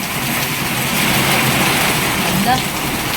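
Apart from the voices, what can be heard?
heavy rain falling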